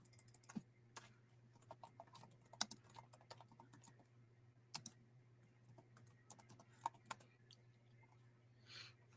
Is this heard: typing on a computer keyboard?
yes